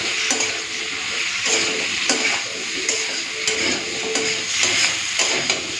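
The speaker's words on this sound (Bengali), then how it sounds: "একটু ভালো করে ভেজে নেব সবজিগুলোকে।" Vegetables seasoned with salt and turmeric fry in a pan, giving a steady close sizzle. Stirring scrapes cut through at regular intervals, with no talking.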